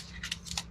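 Scissors trim heat transfer vinyl in two quick pairs of crisp snips, close and clear over a low background hum.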